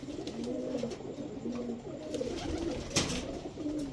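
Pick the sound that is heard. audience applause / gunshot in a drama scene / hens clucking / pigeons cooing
pigeons cooing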